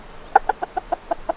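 A run of about seven short chicken clucks at a steady pace, fairly close and clear, with quiet background noise between them, outdoors on a smallholding.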